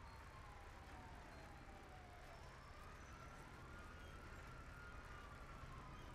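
A wailing emergency siren, most likely an ambulance, sweeps up and down continuously inside the video game GTA 5, with a steady dense background rumble filling the scene.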